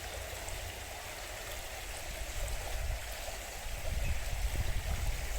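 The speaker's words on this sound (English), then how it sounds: "it looks like quite a lot of water in the burn" Water rushes along a Scottish burn in a steady broadband wash. It is fairly loud and continuous, and there is low rumbling underneath that grows stronger toward the end, with no speech.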